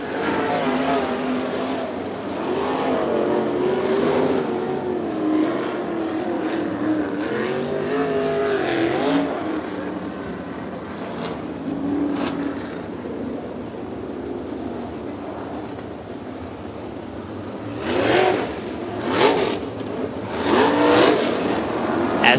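Race cars circle a racetrack in loud passes, their engines rising and falling as they accelerate and sweep by, with several distinct surges near the end.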